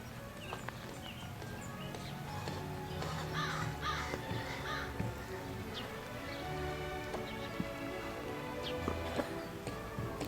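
A crow caws now and then near the 1964 Pioneer grain elevator in Carrot River, Saskatchewan. The calls are faint and scattered against a steady outdoor background, and sharp little knocks are mixed in.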